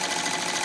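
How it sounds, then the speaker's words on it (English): A Cowboy CB246 cylinder arm sewing machine with a servo motor runs in a brief, steady, close-up whir that stays constant throughout. "this is the Cowboy cylinder machine"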